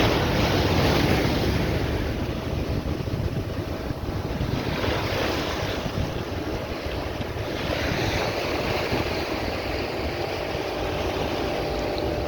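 Steady wash of waves against a beach jetty at Oistins, Barbados, heard outdoors with continuous wind buffeting the microphone throughout, the surf rising and falling in broad surges without pause.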